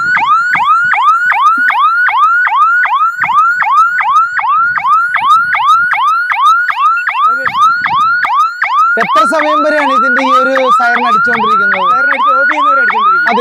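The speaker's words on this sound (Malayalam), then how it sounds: "സൈറൺ ഇതിൽ തന്നെ ഉണ്ടാവും" A flood warning device's loud electronic siren wails in rapid repeating sweeps, then shifts to a harsher, overlapping warble pattern near the end.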